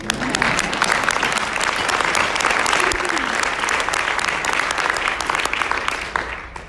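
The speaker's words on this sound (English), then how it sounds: "you can give that a round of applause" Audience applause at a community gathering, steady clapping from a crowd that holds across the whole stretch and fades slightly at the end, with a voice faintly underneath.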